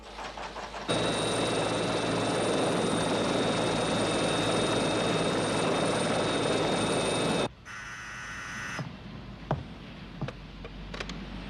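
An aircraft powers up for takeoff with a loud, steady broadband engine roar and a high whine that hold for several seconds, then cut off into quieter noise with scattered clicks.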